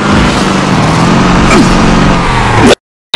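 Vehicle engines roar and rev steadily in a video game attack scene, a loud continuous rumble with a brief pitch sweep, cutting off abruptly into silence near the end.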